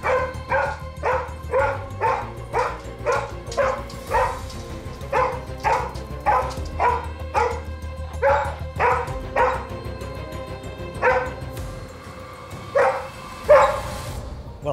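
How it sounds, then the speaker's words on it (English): A dog barking frenziedly in rapid, regular bursts, loud and close, nearly two dozen sharp barks in a steady rhythm that briefly slows near the end, with no talking. "I knew they had a problem with barking, but that's really, really intense."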